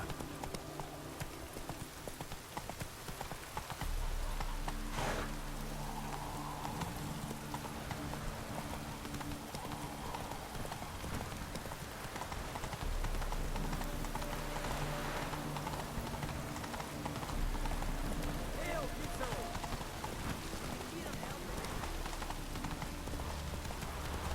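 Roach, a horse in the video game The Witcher 3, gallops with steady rhythmic clip-clop hoofbeats that stay loud and continuous over a bed of rain-like background noise.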